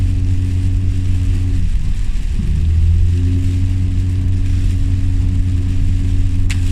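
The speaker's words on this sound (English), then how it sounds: "My car did not sound happy at all." A car engine on a morning commute, a steady loud droning hum with a brief dip and wobble in pitch as the revs change before settling back into an even, strained tone, with no talk.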